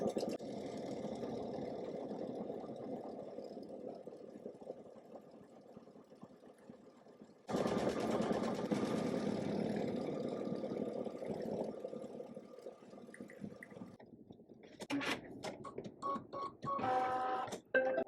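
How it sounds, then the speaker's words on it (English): A Baby Lock Solaris 2 embroidery machine stitching the underlay of a design hums steadily with a rapid mechanical needle chatter, close and continuous, then shifts tone and ends with several short stops and clicks. "It's stitching the underlay right now."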